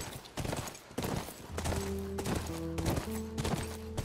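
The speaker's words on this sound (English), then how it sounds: "Riding my horse through the forest." Horse hooves clopping in a steady rhythm while riding through a forest in The Last of Us, a video game, with sustained musical tones joining partway through.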